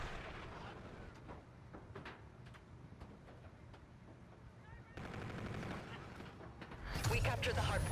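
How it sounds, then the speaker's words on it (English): In a video game, a friendly artillery bombardment booms and rumbles beneath rapid gunfire, growing louder toward the end, with voices talking over it. "Friendly bombardment incoming."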